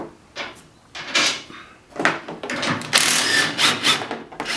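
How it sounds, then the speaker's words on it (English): A 15mm socket on a ratchet works loose the A-pillar bolts of a car during a roll cage install, giving repeated bursts of clicking and scraping metal at close range with brief pauses between, no voices. "Now we'll be removing the A-pillar bolts with a 15mm socket."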